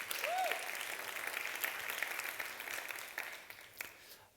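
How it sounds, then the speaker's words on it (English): Audience applause for the Nuqat team at the Nuqat 2015 creative conference, a steady wash of clapping that holds throughout and fades slightly toward the end. "a big round of applause, please, for the Nuqat team"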